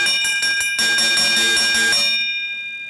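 A handheld bell rung rapidly for the final lap of a long track speed skating race, a loud run of bright clangs for about two seconds that then rings out and fades.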